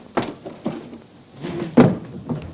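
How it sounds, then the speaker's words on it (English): A door is swung open and shut several times, producing a few muffled thumps and knocks spaced unevenly at close range, with no talking. "Don't stand there waving the door about."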